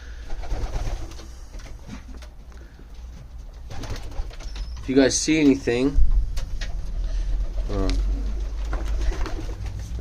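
Pigeons in a loft give soft, throaty coos, a few close repeated calls in the middle and near the end, under a person talking.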